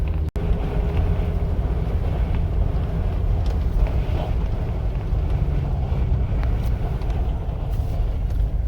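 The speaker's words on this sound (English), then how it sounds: "You guys can see just how dusty it is out here and how windy." Strong wind buffets across open Mojave desert, a loud continuous rumbling roar of gusts against the microphone, with no talking.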